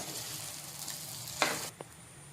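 Fried soya chunks are stirred into fried rice in a hot pan, giving a faint, brief sizzle with a couple of quick scraping stirs.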